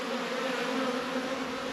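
A dense, steady drone of honeybee workers buzzing inside a hive, close and loud, with a continuous hum and no voices.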